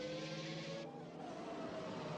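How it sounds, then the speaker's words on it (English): A Formula racing car engine in a racing video game warms up at Suzuka, a steady buzzing whine held close and loud, its pitch shifting partway through, with no voices. "Getting ready and warming up his car, warming up the tires for a fast lap around Suzuka"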